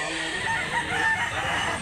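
A rooster, a year-old fighting bird offered at a chicken market in Mantalungon, Barili, Cebu, crows once in a quiet, fairly distant call over faint background noise.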